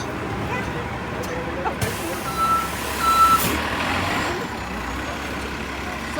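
A bus or truck backs up near a stadium parking area, its reversing beeper sounding as a thin steady tone amid rumbling idle engine noise, with a brief hiss and a louder burst of engine sound partway through.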